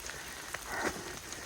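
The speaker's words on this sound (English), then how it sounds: "Everybody's down here getting out of the rain." Steady rain falls outside a trail shelter on a cold, wet hiking day between Allen Gap and Devil Fork, a soft continuous patter with a few sharper drips close by and no voices.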